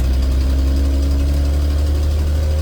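A 1976 Ford F-250 engine with a manual transmission running during gear shifts, a loud steady low rumble close by with no break in the drone.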